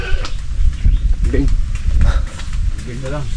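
Goat bleating outdoors on a Filipino farm with kalamansi trees and carabao nearby: a few wavering bleats mixed with people talking loudly close up and steady rustling background noise.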